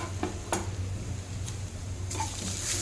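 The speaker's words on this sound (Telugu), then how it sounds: "పచ్చి కొబ్బరి వేసుకొని ఇంకొంచెం సేపు ఫ్రై చేసుకోవాలి" Fresh grated coconut and carrot fry in a pan with a soft steady sizzle, broken by a few sharp scrapes of a spatula stirring against the pan, close and without talking.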